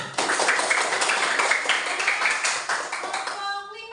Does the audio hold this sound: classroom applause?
yes